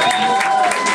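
A bar audience at a rock bar guitar night called The Right Place gives a brief, dense burst of applause for a guitarist, with a faint sustained tone running under the clapping.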